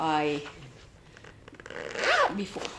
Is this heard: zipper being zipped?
yes